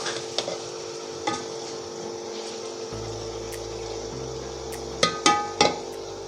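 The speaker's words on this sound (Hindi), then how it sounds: "मज़ीद 2 मिनट भूनेंगे।" Chicken fries in a pot for yakhni pulao with a steady low sizzle, while a spoon knocks against the pot a few times, louder near the end, and no one speaks.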